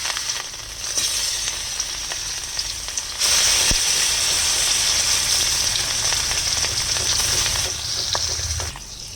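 Fish pieces fry in hot oil for a Bengali fish curry with cauliflower and potato. A continuous close sizzle swells louder after a few seconds and holds steady before easing near the end, with no talking.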